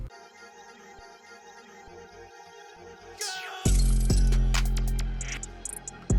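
An open hi-hat transition effect from the Portal plugin in FL Studio sweeps upward over a soft melodic intro, then a heavy beat with booming bass and crisp hits crashes in at full loudness.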